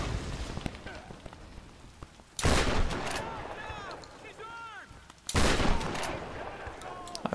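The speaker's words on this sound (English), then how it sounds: "let's try lots of grenades." Grenade explosions in the Tomb Raider video game: two loud, broadband blasts a few seconds apart, each with a long rumbling decay, over a background of game noise and crackling.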